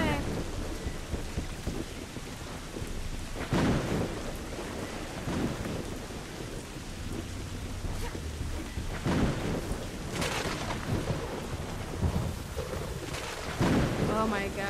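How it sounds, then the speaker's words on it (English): Loud thunder rolls repeatedly over steady heavy rain in the video game Kena: Bridge of Spirits, with several booming cracks breaking through the constant downpour. "That thunder is so loud."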